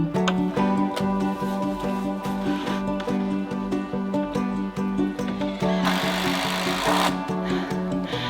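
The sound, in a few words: miter saw cutting wood boards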